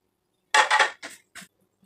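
Metal cooking pot lid clattering onto a pot, a few sharp close clanks and rattles in quick succession before it settles, otherwise quiet.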